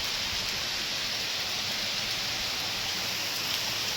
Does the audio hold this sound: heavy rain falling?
yes